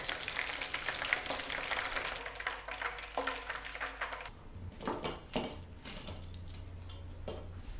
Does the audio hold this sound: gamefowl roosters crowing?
no